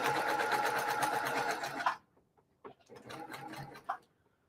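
A sewing machine runs a steady, fast stitch across a quilt block seam for about two seconds, then stops, followed by softer handling noises and a few brief stitches.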